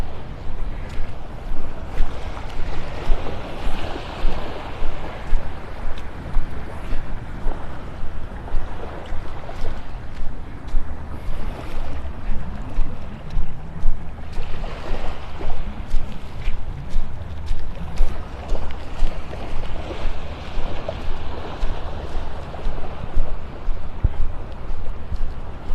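A fishermen's boat heads out past a beach near a pass, its motor faint and distant beneath steady surf, wash of waves and gusts of wind buffeting the microphone.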